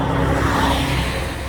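Steady, loud engine and road rumble from a Corvette cruising along on a fall road trip, a constant in-car drone with no talking.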